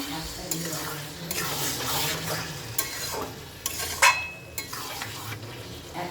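A spoon stirs spinach and fish head curry in a sizzling pan, making repeated scraping sweeps and soft clinks over a steady frying hiss, with no talk.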